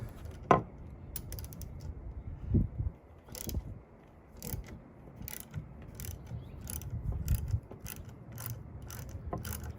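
A ratchet turning a half-inch socket gives a few scattered bursts of clicking, loud and close, with pauses between them over a low mechanical background.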